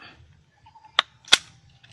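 Two sharp gunshot cracks from test-firing a gun, close and loud, about a third of a second apart against near silence.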